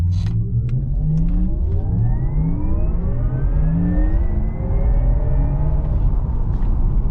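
Synthetic sport exhaust sound of a Porsche Taycan Turbo electric car, a steady futuristic spaceship-like whine with rising and falling tonal sweeps over a constant low rumble, loud and continuous throughout.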